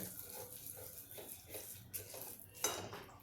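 A spoon works a peanut and jaggery mixture in a pan, giving soft repeated scraping strokes and light metallic clinks, fairly quiet and close, with one sharper knock near the end.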